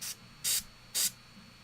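Spray paint hissing from an aerosol can onto a miniature, three short separate bursts with quiet pauses between them, close and alone.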